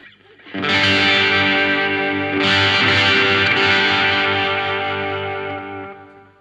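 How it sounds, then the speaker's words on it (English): Electric guitar through an overdrive pedal and a delay set to its slowest repeat, two distorted chords struck and left to ring, thick and sustained with echoing tails fading out, no voices. "That's the slowest delay you can get out of this. But listen to it with the overdrive."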